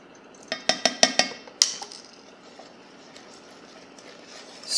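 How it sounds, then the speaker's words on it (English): A spoon clinks several times against a pot of melted butter, sugar and vanilla just off the boil, a quick run of sharp metallic taps followed by quieter scraping stirs. "Stirring that very well."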